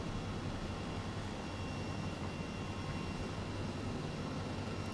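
Twin-engine Airbus H135 helicopter in Microsoft Flight Simulator, engine 2 spooling up: a steady, continuous turbine whine and low drone holding at constant loudness throughout, with no talk.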